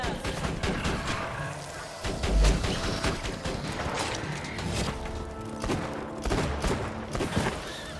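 Sentry turret in Tiny Tina's Assault on Dragon Keep fires rapid bursts of gunshots amid a busy battle din, with repeated sharp cracks and impacts running throughout.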